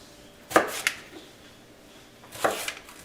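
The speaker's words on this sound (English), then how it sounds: "now we're just going to chop this up fairly fine" A knife chops vegetables and onion finely on a board, with two separate bursts of quick cuts, each a sharp strike followed by a few lighter taps, close and clear against a quiet room.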